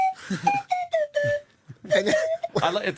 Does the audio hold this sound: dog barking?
no